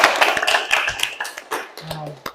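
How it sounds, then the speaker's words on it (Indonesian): A small group claps briefly in a classroom teaching session, light uneven hand claps heard close by alongside talking. "beri tepuk tangan dulu"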